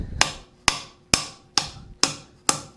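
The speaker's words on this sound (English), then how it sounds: "I'm gonna hammer it over the edge of the anvil" Six evenly spaced, sharp hammer blows strike a metal sheet bent over the edge of an anvil while forging a fold-formed bowl, each ringing briefly and decaying before the next, close and loud.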